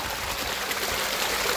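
Running water pours steadily while rinsing a mat, a continuous close hiss and splash with no pauses.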